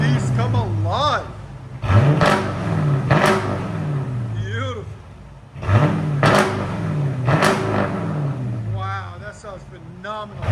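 A Jeep Grand Cherokee 5.7L HEMI V8 revs hard through its exhaust in two main rising and falling surges with throaty, rumbling pitch sweeps, loud and close, with people talking and reacting over it.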